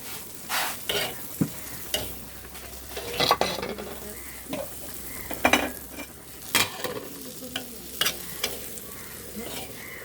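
Prawns and onions are stir-fried together in a pan, with a steady sizzle broken by repeated scraping and clanking strokes of a spatula against metal, close and fairly loud.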